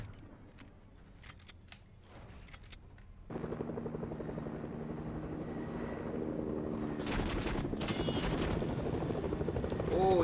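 A helicopter in the Fortnite video game, played on Nintendo Switch, drones with a steady rotor hum that swells loud and stays close, while bursts of gunfire crackle around it.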